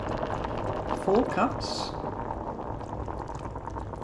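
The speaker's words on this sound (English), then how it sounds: "Hear it bubbling away." A pot of tomato chutney bubbles and boils steadily close by, a constant wet simmering hiss while a person speaks briefly over it.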